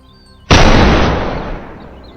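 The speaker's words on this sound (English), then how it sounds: "Gunfire echoed from somewhere in the forest" A single loud gunshot cracks through a forest during a confrontation with a wild boar, then rolls away in a long, fading echo; no one speaks.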